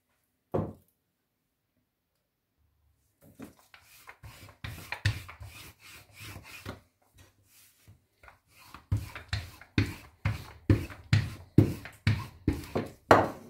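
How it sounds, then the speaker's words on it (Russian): Dumpling dough for cherry varenyky being rolled out with a rolling pin, a series of rhythmic rubbing, rasping strokes that start sparse and grow into steady, evenly spaced passes, close by with no talk. "И раскатываем."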